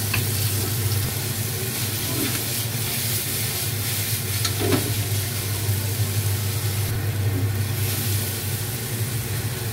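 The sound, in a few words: garlic and onion sautéing in pan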